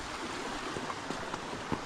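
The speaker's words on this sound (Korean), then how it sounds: "계곡의 물소리가 아주 이쁘게 들립니다." Water in a mountain valley stream at Daedunsan Provincial Park flows steadily as a soft, continuous rush, faint and without voices.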